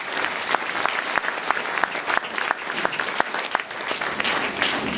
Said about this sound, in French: Je crois qu'on peut les applaudir parce que c'est un vrai travail.